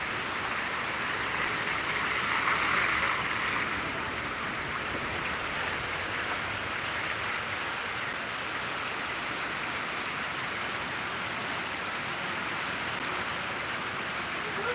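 First monsoon rain pours steadily over a village, a dense, even hiss of drops on surfaces that runs unbroken throughout, slightly heavier near the start, with no voices.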